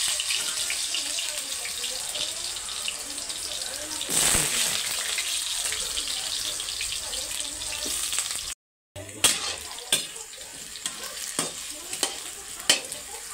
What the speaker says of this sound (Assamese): প্ৰথমতে আলুখিনি তাৰ মানে ভাজি ল'ব লাগিব আৰু ভাজি কিনে আৰু কাঢ়ি থৈ দিব লাগিব।